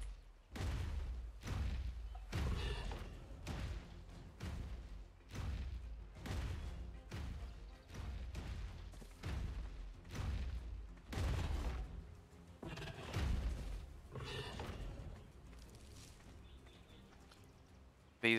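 A Corrupted Giga in the ARK video game attacks an indestructible creature cage, giving a steady run of heavy, booming thuds about once every second, loud and close, with layered impact noise and faint game ambience between hits.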